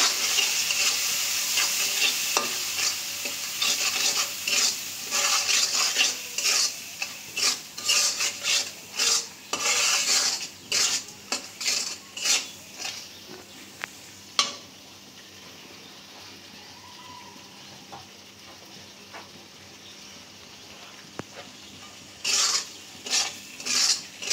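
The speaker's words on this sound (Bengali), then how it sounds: "মশলাটা কষাই নেব।" Spice paste with salt and ginger-garlic paste being stir-fried in a pan, a sizzle under repeated scraping strokes of a spatula in bursts, with a pause midway before the scraping resumes.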